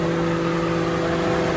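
An Infiniti G35 sits idling with its hood up, a steady engine hum with a constant drone and whir running unbroken throughout, close and moderately loud, with no talking.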